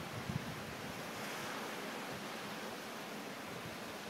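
Ocean waves breaking on a reef, heard as a steady, broad hiss of distant surf with some wind noise, constant and even throughout with no talking.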